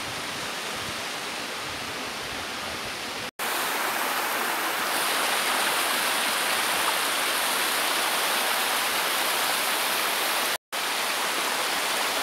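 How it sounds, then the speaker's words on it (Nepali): A natural waterfall and stream in Kakare, Dhading, make a constant dense rush of falling water, close and steady throughout, broken by two very brief dropouts, with no voices. "हामी चाहिँ पुगिसकेका छौँ झरना"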